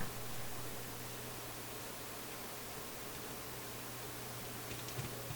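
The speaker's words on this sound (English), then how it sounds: "I hear a faint hiss now, FM hiss." Steady, faint FM hiss from a Philips console stereo receiver, a continuous broadband static wash over a low hum, unbroken and without speech.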